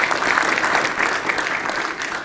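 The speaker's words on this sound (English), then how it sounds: "A round of applause for him," Applause for military mechanics at an Atlantic Resolve 2019 gathering aboard the Eisenhower, a crowd clapping steadily and loudly throughout with no pauses.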